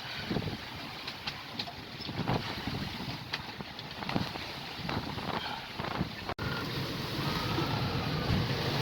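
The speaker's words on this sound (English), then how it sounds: "It's quite gusty today, but still quite close to the coast" Gusty wind roars across the microphone aboard a reefed sailing yacht near the coast of the Thames Estuary, with a steady rushing of water and hull noise underneath, loud and continuous throughout.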